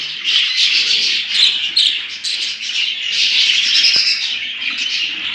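Budgerigars in a home breeding area chirp and chatter continuously, a dense flock of overlapping high tweets and squawks close by with no talk.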